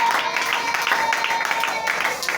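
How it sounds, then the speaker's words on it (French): A church congregation claps and cheers for the king at a blessing service, producing steady, dense applause and crowd noise throughout the short burst. "On acclame encore pour le roi"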